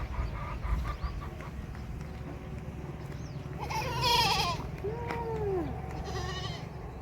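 Goats bleat a few times against a steady background hum, with distinct wavering calls near and at moderate volume, and no talking.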